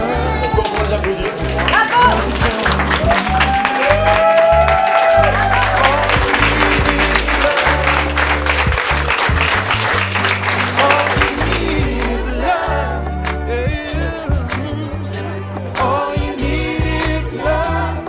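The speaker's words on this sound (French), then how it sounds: "Encore pour les applaudir." Wedding guests applaud the newly married couple, a broad, steady clapping that runs under loud music and singing throughout.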